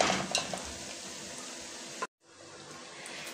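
Beef pilau simmers and sizzles in a pot, a dense steady hiss with small crackles, close and moderately loud, briefly cut off before the sizzling resumes.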